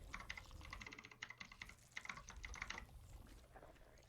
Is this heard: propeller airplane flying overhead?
no